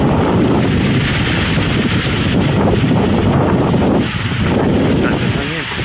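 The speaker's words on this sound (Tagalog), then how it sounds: "Lakas ng hangin." Loud, roaring gusts of strong typhoon wind buffet the microphone continuously, with heavy rumbling turbulence and brief surges; no clear speech.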